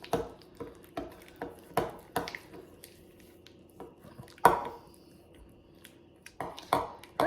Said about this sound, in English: And now I'm going to just mix that up really well.